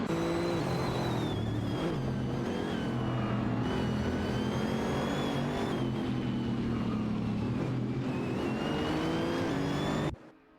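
Simulated GT3 racers such as a Mercedes-Benz SLS AMG and Chevrolet Camaro GT3 battle in a racing game, multiple engines droning and revving loudly and continuously, ending in a sudden cutoff, with no talking.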